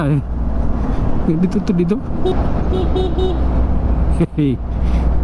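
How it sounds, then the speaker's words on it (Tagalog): A weak motorcycle horn sounds a few short, thin toots amid road traffic noise, with talking and engine hum around it. "Ba't nagiging supot yung busina ko?"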